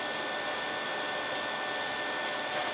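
RigidBot 405nm laser cutter attachment cutting cardboard at 150 millimeters per minute, a steady broadband fan-like hiss with a faint whine held throughout, plus a few brief faint high ticks near the end.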